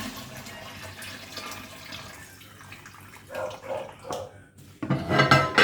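Water runs and splashes steadily, then swells into a louder gush near the end as it drains off washed chicken pieces into a sink.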